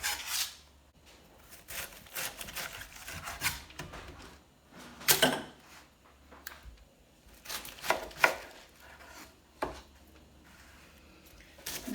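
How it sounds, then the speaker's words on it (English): A knife cuts at an angle into a cabbage to take out its core on a kitchen cutting surface, giving a run of close, crisp chopping and scraping strokes in irregular bursts with quiet pauses between them. "Now I'm just going to kind of go in at an angle and remove this core."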